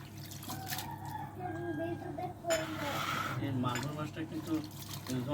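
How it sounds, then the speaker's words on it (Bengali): Fish and prawns rinsed by hand in water, giving a trickling, splashing wash under a child's chatter and other voices nearby. "তো মাছগুলো ধুয়ে নিচ্ছি ভালো করে তারপর কাটবো"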